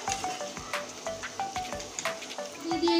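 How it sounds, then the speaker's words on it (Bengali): Masala sizzles as it is sautéed in a pan. A soft, close frying hiss runs under regular light scraping clicks from stirring, with a louder sizzle near the end. "এবার মশলা দিয়ে আর একটু সুন্দরভাবে কষিয়ে নেব।"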